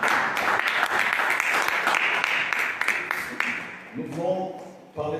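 Church congregation applauding and cheering in a dense, steady wash of clapping that fades after a few seconds as a voice begins to speak.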